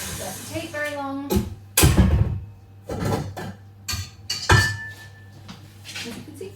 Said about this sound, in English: Just to combine the ingredients, so just whisking it.